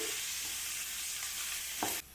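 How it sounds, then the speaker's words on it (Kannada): Chopped onions fry and sizzle steadily in a hot pan over a high flame for an egg kurma, a continuous close crackle with a brief stir scrape near the end. "ಈರುಳ್ಳಿನ ಫುಲ್ ಫ್ರೈ ಆಗಬೇಕು ಇದು ಬ್ರೌನ್ ಕಲರ್ ಬರೋವರೆಗೂ ಫ್ರೈ ಆಗಬೇಕು"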